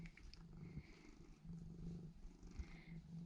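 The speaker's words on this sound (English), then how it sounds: "Always purring." A small cat purrs softly and steadily up close in a bathroom under renovation, its low rhythmic rumble continuing throughout with faint background noise and no talking.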